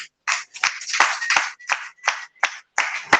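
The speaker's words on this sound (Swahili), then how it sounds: "Hebu tupigie mtoto mchanga makofi." A church congregation at a Wednesday evening service celebrating the birthday of Jesus claps together in bursts. The clapping comes in uneven, rhythmic waves, loud and close, with short pauses between groups of claps.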